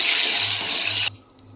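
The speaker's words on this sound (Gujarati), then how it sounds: "અત્યારે આપણે અડધા ગ્લાસ જેટલું પાણી નાખીશું" A loud, harsh hiss as half a glass of water hits hot oil, sizzling steadily for about a second before cutting off abruptly into quiet.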